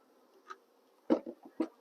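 Honeybees in a demonstration hive with a honeycomb frame, heard as a few short, close buzzing bursts against a quiet background.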